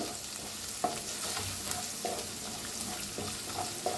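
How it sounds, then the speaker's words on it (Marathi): Half a spoon of turmeric roasting in a spice masala over very low gas, with a steady soft sizzle and a few sharp stirring clicks of a spoon against the pan, no voices. "आता ह्याच्यात टाकूया हळद अर्धा चमचा. हळदीला बी छान असं भाजून घेऊया."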